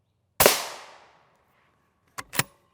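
Rifle shots, a 5.45 round among them, strike a Russian 6B43 Granit Ratnik GOST 6A body armor plate: one loud sharp crack with a ringing decay, then two quicker, lighter cracks close together about two seconds later.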